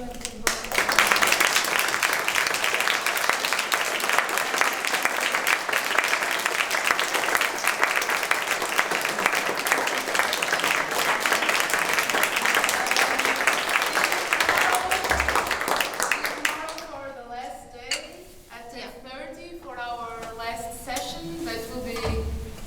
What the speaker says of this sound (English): And again, a big applause for you.